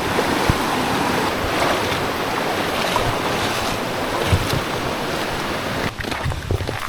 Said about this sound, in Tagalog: Malakas tubig talaga no.